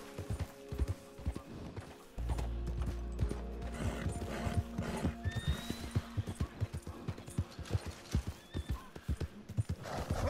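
A horse in the Red Dead Redemption 2 video game whinnies and neighs while its hooves clop and stamp in an irregular rhythm, heard close and alone.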